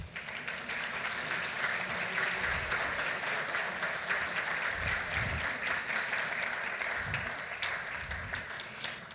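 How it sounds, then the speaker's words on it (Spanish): Applause at a judges' day ceremony rolls on for about nine seconds, a thick, continuous wash of many hands clapping at moderate volume with a few sharper individual claps standing out. "Brindemos un fuerte aplauso."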